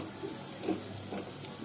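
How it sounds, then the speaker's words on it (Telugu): Mushrooms are washed in lukewarm water in a home kitchen, giving a soft, steady splashing and running-water hiss with faint handling sounds and no talking. "అంటే గోరువెచ్చటి వాటర్లో కడిగి"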